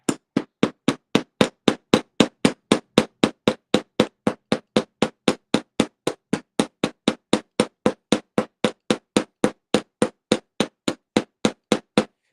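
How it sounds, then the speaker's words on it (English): Steady, evenly spaced hammer strikes riveting jewelry links, around forty sharp metallic taps in a row, close and loud, with no talking. "It's a lot of hammering, so I apologize for that, for the sound"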